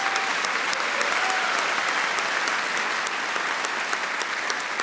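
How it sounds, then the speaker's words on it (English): Sustained applause from a theatre audience at the close of a televised Q&A panel broadcast from the Empire Theatre in Toowoomba, a dense steady clapping that runs without a break at an even level. "please give them and yourselves a big round of applause"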